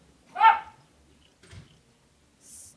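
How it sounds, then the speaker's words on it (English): A dog gives one short, sharp bark, followed by a soft low thump and a faint high chirp in otherwise near silence. "Why are you guys barking?"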